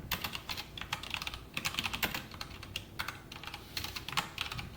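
Quick bursts of typing on a computer keyboard, fairly close and quiet, with irregular clusters of key clicks separated by short pauses and no one talking.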